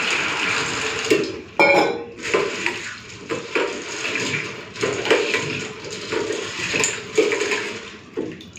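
Soaked dried peas washed by hand in a pot of water, with sloshing, splashing water and rattling, knocking strokes against the vessel, continuing at close range for several seconds without speech.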